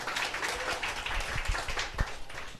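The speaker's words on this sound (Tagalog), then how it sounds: "palakpak po, palakpak" An audience at a seminar claps together in a dense, steady patter of overlapping hand claps that runs throughout, fairly close and moderately loud, with no voices rising above it.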